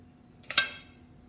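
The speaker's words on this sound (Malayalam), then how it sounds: "കുക്കറിലേക്ക് മട്ടൻ ഇടാം" Chunks of mutton drop into a pressure cooker with two quick soft clanks against the metal pot, close and brief in a quiet kitchen.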